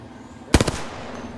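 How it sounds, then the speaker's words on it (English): Gunfire in the Apex Legends video game, a quick burst of three or four sharp shots close together, fairly loud over a low steady background, then fading out. "Is there someone trying to shoot us?"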